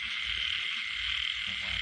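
Frogs croak steadily and densely close by in a nighttime field, a continuous chorus of rasping calls layered over a bright insect-like trill, with no pause throughout.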